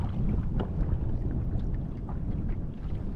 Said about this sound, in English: the wind, she's back